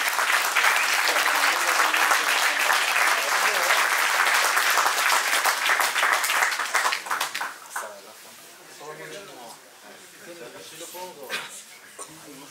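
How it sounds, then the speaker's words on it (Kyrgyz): A crowd claps loudly at a tournament ceremony for an intergenerational unity cup, the applause sustained and dense for several seconds before thinning out as a voice takes over. "кол чабуулар болсун, жакшар."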